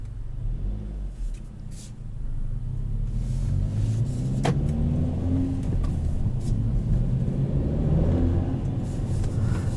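A 2021 Kia Forte GT with a manual gearbox pulls away, its engine a steady low rumble heard from inside the cabin that gently swells as the car gets moving.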